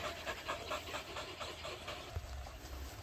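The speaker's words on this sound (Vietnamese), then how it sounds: "Đứng nắng thở dữ." A four-month-old Malinois puppy standing in the sun pants hard and fast, a steady close breathy rhythm throughout with no talking.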